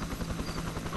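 Helicopter in the video game Arma 2, a steady close rotor drone with rhythmic low-end thumping that fills the whole second without a break.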